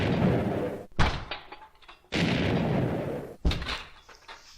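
Explosions in the fantasy strategy game Age of Fear 3: The Legend, three loud, broadband booming blasts with sharp onsets, each decaying into rumbling debris before the next, with no talking.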